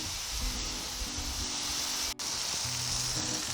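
Heart-shaped steaks sear on a Blackstone 28-inch Pro griddle, giving off a steady close-up sizzle with a brief dropout partway through and some low background hum.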